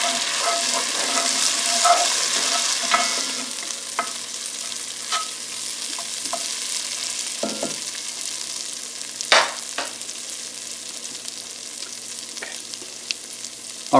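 Whole spices frying and blooming in a hot pan for a Rajasthani butternut squash and potato curry: a continuous close sizzle broken by frequent scraping stirs and a few sharper clacks, with no talking.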